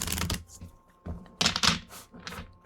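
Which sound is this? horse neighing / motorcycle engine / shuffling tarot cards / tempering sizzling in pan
shuffling tarot cards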